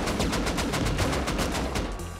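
Rapid bursts of automatic gunfire from a Rust raid firefight, loud and close, rattling steadily for the whole stretch with no pauses.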